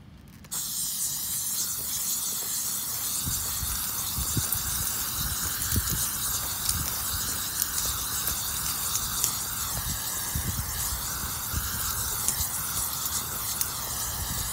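Airless line painter spraying white paint onto a football field's lines, a steady loud hiss of spray running continuously with the machine's low rumble beneath, no talking.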